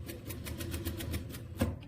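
A sewing machine stitches bias binding onto a blouse neckline, a steady, even rhythm of needle strokes running quietly and close throughout, with a slightly louder knock near the end.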